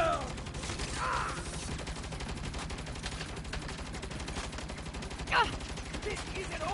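Sustained automatic gunfire from a firefight in the video game Saints Row, dense rapid bursts running throughout at steady loudness, with a couple of sharper accents and game voices mixed in.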